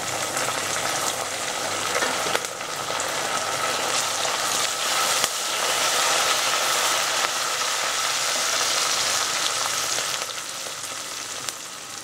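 Garlic and curry leaves sizzle with browned onions in a pan for chicken kulambu, a steady close crackling hiss with occasional stirring scrapes, no voices.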